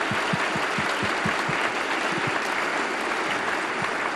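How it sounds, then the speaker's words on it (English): A crowd at a scholarship luncheon applauds steadily and densely for the student award recipients, sustained without a break from start to finish. "Can we give them another round of applause?"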